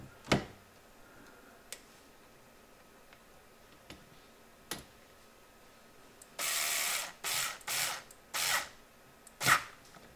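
A small screw is tightened beside the eject button of a Philips DCC mastering playback unit, heard as scattered sharp ticks and clicks, then a few short whirring bursts of a small power driver near the end.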